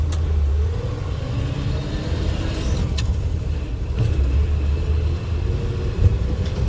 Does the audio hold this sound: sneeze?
no